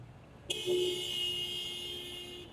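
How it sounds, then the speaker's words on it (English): A car horn in Toronto street traffic gives one long steady honk of about two seconds after a short tap, loud and close over a low background of city noise. "Oh, the sweet, sweet music of cars."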